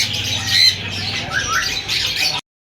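Parrots at an outdoor bird market give harsh, loud squawks close by, with overlapping calls from other birds in a continuous chorus that stops abruptly.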